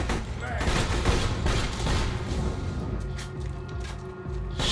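Gunfire in the Borderlands 2 video game, rapid bursts of shots and booming impacts that crowd together into a dense, loud clatter before thinning out near the end, with no speech over it.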